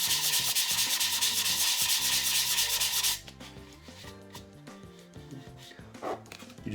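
Putty on a scale model is sanded by hand in quick, rhythmic rasping strokes for about three seconds, then stops, leaving soft background music and light handling sounds.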